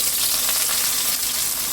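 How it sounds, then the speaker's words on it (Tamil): Steady, loud sizzling of onions and curry leaves frying in hot oil, a dense crackling hiss with no voices. "கருவேப்பிலை வெங்காயம் சேர்த்துக்கலாம்"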